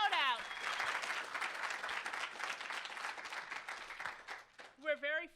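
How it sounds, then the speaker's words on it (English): A university demo day audience claps in a steady, sustained wash of applause for several seconds, fading as a voice begins speaking at the end. "would you give her a round of applause?"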